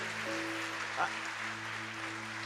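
Congregation clapping through a church service, a steady wash of applause over sustained low keyboard tones, with a brief voice rising near the middle.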